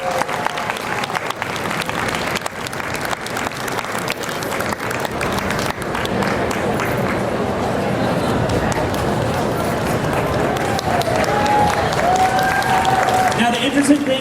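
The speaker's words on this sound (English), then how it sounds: "let's give them a round of applause" A large crowd at the D23 Expo Disney costume contest applauds the participants, a loud, continuous roar of clapping with cheering mixed in, sustained throughout with occasional whoops rising above it.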